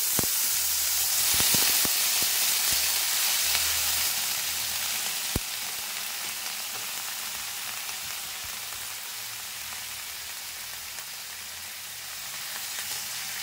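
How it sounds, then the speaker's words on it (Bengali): Chopped ridge gourd fries in ghee in a pan, hissing and sizzling steadily at a moderate level, with a few light clicks of stirring early on and no talk. "খুব ভালোভাবে নাড়াচাড়া করে আমি ঝিঙেগুলো একটু ভেজে নিচ্ছি"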